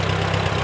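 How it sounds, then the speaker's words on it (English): A tractor engine idles steadily close by, a low, even rumble with a faint knocking pulse that holds throughout the short stretch. "Oh, I love my tractor."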